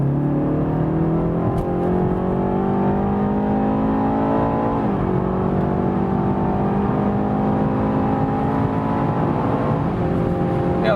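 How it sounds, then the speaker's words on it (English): A BMW 330i accelerating hard from 80 km/h, engine note climbing steadily through the gears with two brief dips at shifts, loud and continuous from inside the car. "And one more acceleration when we are already at speed"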